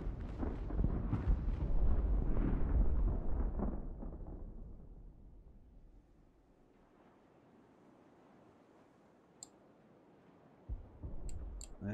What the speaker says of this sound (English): they're getting shot at by artillery